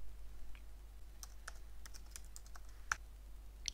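Keystrokes on a computer keyboard typing a page heading, a sparse run of separate clicks with a couple of sharper taps, close and fairly quiet over a low steady hum.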